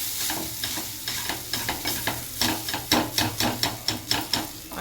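Urad dal fries in hot oil in a pan for cluster-bean paruppu usili, with a steady sizzle under a run of rhythmic scraping stir strokes. The strokes grow louder and more regular toward the end, and no voices are heard.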